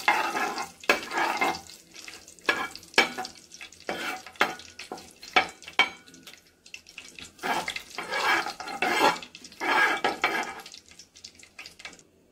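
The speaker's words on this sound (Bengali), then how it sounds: "একটু ভেজে নেব।" Food fries in a pan for Punjabi chicken curry, with loud bursts of crackling sizzle and stirring that come and go in irregular waves, close up and with no voices.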